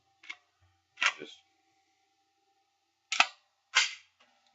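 Metal parts of a Glock 23 Gen 4 pistol are put back together, giving four sharp, close clicks and snaps in two spaced pairs against near silence.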